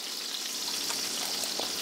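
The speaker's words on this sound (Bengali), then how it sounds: "যেহেতু কাঁচা লঙ্কা আছে এক্ষুনি ফাটবে।" Green chillies sputter in hot oil with a steady, close hiss and a few faint crackles, with no talking.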